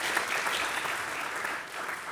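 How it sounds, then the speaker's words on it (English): Symposium audience clapping after an address on future warfare, a dense steady round of applause from a seated crowd, moderately loud and continuous with no voices over it. "not before we give an applause to Professor Payne"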